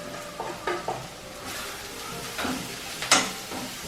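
Spice powders stirred into a sizzling prawn curry in a pan, with a soft frying hiss under a few short scraping stirs and one sharper clatter near the end, moderately quiet.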